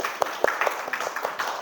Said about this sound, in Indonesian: Oke, tepuk tangan untuk kelompok 3